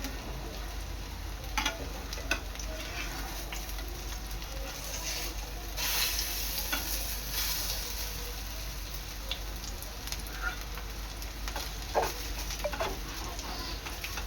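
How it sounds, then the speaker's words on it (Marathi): Soybean kebabs sizzle steadily in a pan while being flipped, a constant close frying hiss with a few soft taps and scrapes, no speech. "अशा प्रकारे सर्व कबाब मी पलटून घेणार आहे."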